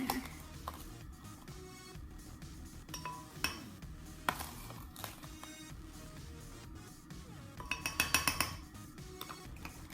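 Homemade sugar scrub being stirred in a cup, with scattered soft clinks and scraping taps from a utensil against the container, a brief cluster of sharper clinks near the end, quiet overall.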